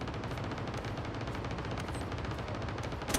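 Loud, dense gunfire from a PUBG match rattles in rapid, overlapping bursts without pause for the whole stretch, with no talking.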